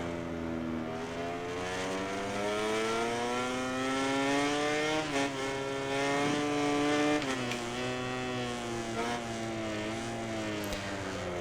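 Racing motorcycle engine in the MotoGP 19 video game at Valencia, a loud, close high-revving whine climbing and dropping through gear shifts in waves, continuous and without speech.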